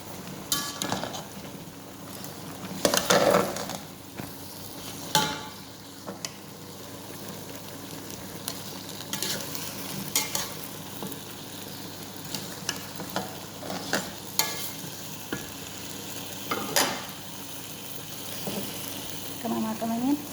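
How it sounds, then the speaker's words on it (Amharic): Potatoes tossed and stir-fried in a pan for a Pakistani chicken karahi, with a steady sizzle and repeated scraping stirs throughout; a few soft bursts stand out, and no one speaks. "ከዛ ክችን ያዘጋጀሁትን ድንች ጨምራለሁ።"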